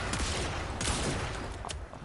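The Catchmoon pistol in Warframe fires a few rapid, punchy shots in quick succession, loud and close, with sharp bursts amid continuous game noise.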